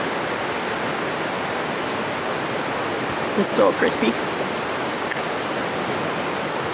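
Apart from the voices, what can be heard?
river flowing in a Canadian forest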